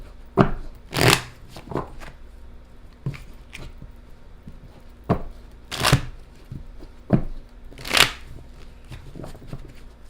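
Tarot cards being shuffled in a series of quick riffling and slapping bursts, loud and close, with short pauses between shuffles and no voices.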